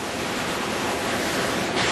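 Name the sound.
water flowing over stones at a small waterfall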